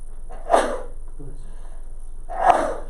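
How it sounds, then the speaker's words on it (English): Two sharp sneezes about two seconds apart, close to the microphone, with quiet room tone between them. "I just sneezed twice."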